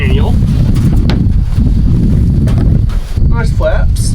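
Wind gusting around a truck camping setup with flaps, a loud, continuous low buffeting roar on the microphone, with brief voices breaking through near the end.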